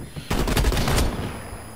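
A short burst of rapid automatic gunfire in the video game Call of Duty Cold War beta, loud and close, lasting under a second before fading into a hiss.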